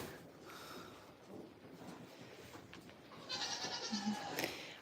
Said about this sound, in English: So there's a pen of bucklings behind this barn. I hear them yelling for grain too.